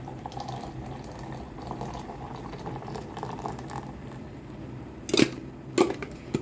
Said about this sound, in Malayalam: എന്നിട്ട് സോഡ പൊട്ടിച്ചൊഴിക്കും കേട്ടോ. സോഡ ഒഴിച്ച് കൊടുക്കാം.